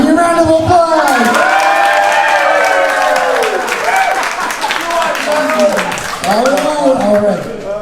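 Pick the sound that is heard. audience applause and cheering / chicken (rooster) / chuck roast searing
audience applause and cheering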